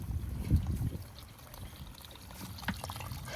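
Leftover water drains and trickles out of opened irrigation sprinkler lines during a repair, a soft, irregular splashing and dribbling heard up close at low volume, with no speech.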